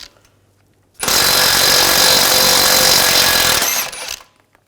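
A power tool with an 18mm socket spins out a tie rod end bolt on a 2011-2018 Volkswagen Jetta, giving one loud, close, continuous hammering burst of about three seconds that starts abruptly and then winds down.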